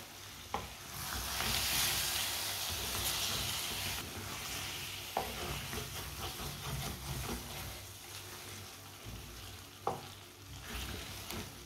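A spiced mixture fries in a pan over a high flame with continuous soft sizzling, and a spoon scrapes and stirs it with occasional sharp clinks against the pan, all fairly quiet.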